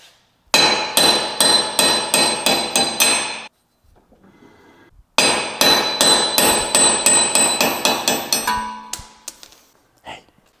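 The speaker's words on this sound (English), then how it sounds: "We should be able to just hammer them right on out." Rapid metallic hammer blows ring out in two bursts of about eight strikes each, driving out car wheel studs, separated by a short pause, loud and close.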